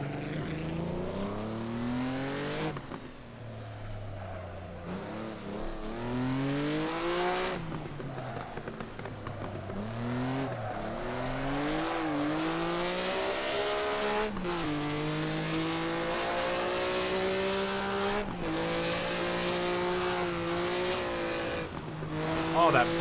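A Maserati 250F race car driven around Monaco, its engine howling loudly and close, climbing through repeated rising revs with sharp throttle blips and brief drops between gear changes, without a break throughout.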